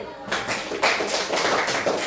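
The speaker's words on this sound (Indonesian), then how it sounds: "Tepuk tangan dulu." A classroom group gives a short round of applause after a presentation, a brief dense patter of hand claps filling the room with a few voices underneath.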